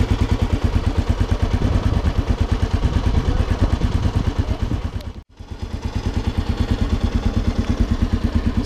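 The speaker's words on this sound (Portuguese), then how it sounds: "Seu motor é um 4 tempos de 339 cilindradas, refrigerado a ar, com 30 cavalos e 3 kg de torque." An air-cooled four-stroke 339cc motorcycle engine from 1989 idles close by with a loud, even pulsing chug, briefly dipping and catching once midway before settling back into its steady rhythm.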